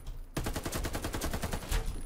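In the shooter game Warface, a rifle opens up in a fast automatic burst, around twenty sharp, evenly spaced shots that ring loud and close for about two seconds.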